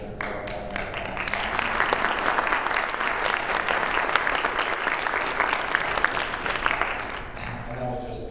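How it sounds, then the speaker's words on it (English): An audience at a literary magazine release party breaks into steady applause that swells after the first second, holds dense and even, then eases off near the end. "I'd like to give her a round of applause."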